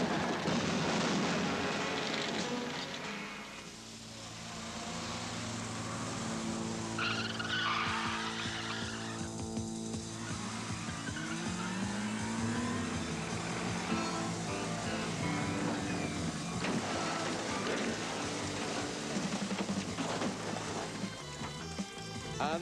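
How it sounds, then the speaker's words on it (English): A stunt car event with a pink car in a T-bone collision: engines roar and tyres squeal in long skids, loud and sustained, with a brief lull and further revving and screeching before and after the impact. "That's Roy in the pink car with what's called a T-bone meeting."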